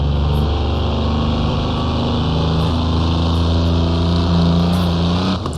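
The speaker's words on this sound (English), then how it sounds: "Oh, third gear bogging down so much." A Mercedes Transporter race van in Assetto Corsa on the Nordschleife, engine bogging in third gear: a loud, steady, low droning engine note that strains and slowly climbs in pitch without any clean revving, with no talk over it.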